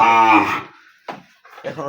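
A cow, an adult desi dairy cow on a farm, gives one loud, deep, drawn-out moo close by, followed by a couple of brief, quieter low sounds after a pause.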